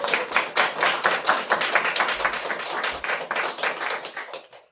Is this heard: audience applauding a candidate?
yes